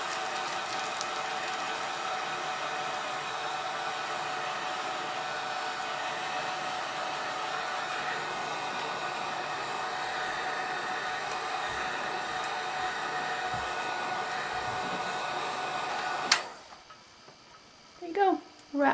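Heat gun blowing hot air to shrink plastic wrap around a bar of soap, a steady loud hiss lasting about sixteen seconds before cutting off abruptly, followed by brief speech.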